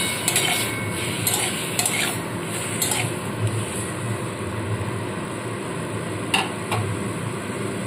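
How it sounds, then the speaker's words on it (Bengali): A utensil stirs chopped tomatoes, garlic and salt in a pan, with repeated scraping clinks against the metal over a soft sizzle, close up and steady, with no speech. "এবার একটু ভালো করে নাড়াচাড়া করে নিয়ে টমেটোগুলো সেদ্ধ হতে দেবো।"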